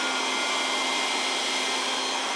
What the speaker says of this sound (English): now we're gonna turn the vacuum cleaner on